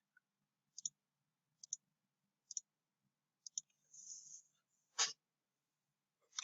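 Mouse clicks placing points in a map editor, marking light pole locations: sharp, quiet clicks arriving singly and in pairs at an irregular pace, close to the microphone, with a brief rustle and a louder tap between them.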